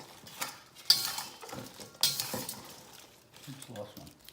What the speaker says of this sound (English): Now I'm just gonna give it a mix it all in there.